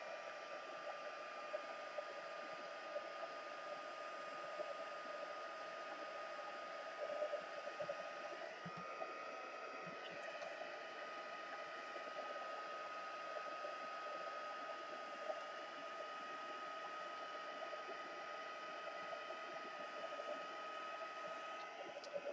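Hair dryer blowing over thick drops of masking fluid on a painting, a steady, close whooshing drone with unchanging pitch running throughout, faint handling noises briefly cutting through midway.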